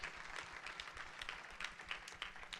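Church congregation applauding the King of Glory, a dense, steady wash of many hands clapping at moderate distance, with faint voices mixed in.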